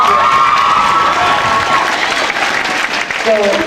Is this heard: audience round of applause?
yes